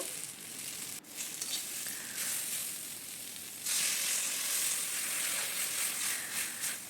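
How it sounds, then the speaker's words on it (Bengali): Sliced bitter gourd sizzles steadily in a hot pan with oil and ginger as it is stirred, a soft continuous hiss that grows louder partway through, with no speech. "এরপরে আমি দিয়ে দিলাম করলাগুলো করলাগুলো নাড়িয়ে নাড়িয়ে"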